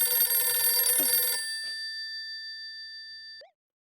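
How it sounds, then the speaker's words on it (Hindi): A telephone rings with a bright, sustained electronic tone that holds, then cuts off abruptly after about three and a half seconds, close and clear with no talk. "जेठालाल फोन उठाओ, अगर इसकी बैटरी भी चली गई ना तो लेने के देने पड़ जाएंगे।"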